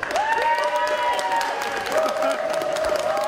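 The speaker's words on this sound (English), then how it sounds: "if you think it was Alan, give us a round of applause" A comedy gig crowd claps and cheers in a round of applause, the steady clapping overlaid by loud whistles and shouting voices near the front.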